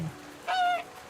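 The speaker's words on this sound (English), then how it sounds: "The geese are so loud." A goose honks once in a video game, a single short, bright nasal call heard clearly over quiet background noise.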